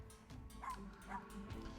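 A dog being patted in the video game UnderMine gives two or three short, soft yips and whimpers over a steady background music bed.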